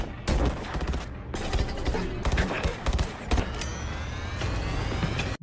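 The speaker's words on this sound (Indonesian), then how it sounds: "Dan di luar terjadi tembak-menembak." Bursts of rapid gunfire from a film shootout between elite troops and gang members crackle loudly over a busy, dramatic soundtrack, with repeated volleys and thumps across the scene.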